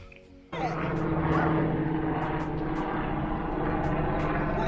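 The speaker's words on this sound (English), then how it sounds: "Helicopter!" A helicopter flies overhead near a campsite, its broad engine and rotor roar starting abruptly and holding steady and loud for several seconds, with some clicking sounds on top.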